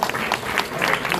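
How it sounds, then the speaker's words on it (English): Brief burst of audience clapping for radio panelists at a DJ conference, steady and fairly loud throughout, with a murmur of voices mixed in. "All right, give our panelists a round of applause."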